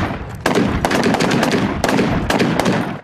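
Loud bursts of automatic fire from a domestically made MPT-76 rifle chambered in 7.62 mm, with rapid shots in several strings separated by brief pauses, close and sharp.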